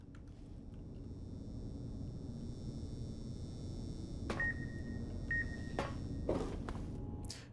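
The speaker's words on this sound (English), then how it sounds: "I don't know what actually is causing the beeping." Intermittent electronic beeps from an unknown source during a casino heist video game, short tonal pips and a few sharp clicks over a steady low rumble, with no talking.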